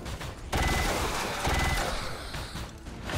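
Gunfire aimed at a sectoid in XCOM 2, a loud sustained burst of rapid automatic shots with heavy impacts, continuous across the clip with no talking.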